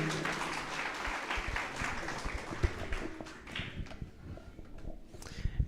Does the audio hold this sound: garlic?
no